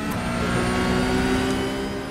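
A Porsche Cup race car at the Nurburgring in a racing video game holds a steady, loud engine drone with a sustained tonal whine, continuous and close throughout.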